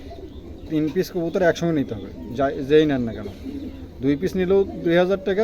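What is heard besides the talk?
pigeons cooing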